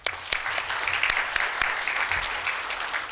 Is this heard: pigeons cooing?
no